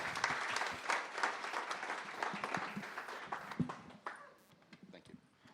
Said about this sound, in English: Round of applause for Hypernym.